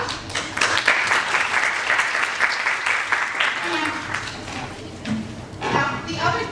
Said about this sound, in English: we're going to give her a round of applause